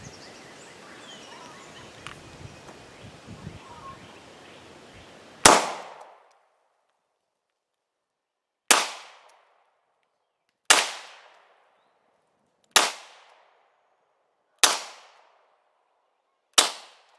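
Hi-Point C9 pistol fired during a function test with assorted ammunition: six sharp, loud shots spaced about two seconds apart, each ringing briefly, after a stretch of low rustling background.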